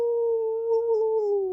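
A human voice imitates a dog howling, giving one long, steady, sustained howl that stays loud and close throughout, with nothing else audible.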